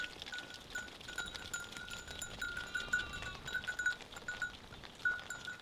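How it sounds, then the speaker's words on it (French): Sheep on a plain pasture near Paris, faint bleats at a distance over steady outdoor ambience, with a few light clinks like bells among the flock. "Les moutons, ça me fait très très plaisir de les voir ici"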